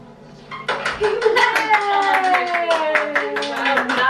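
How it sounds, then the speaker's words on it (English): A toddler pats and claps hands in a rhythmic series of light, close taps while an adult sings along over them. "Pat and clap and pat and stop."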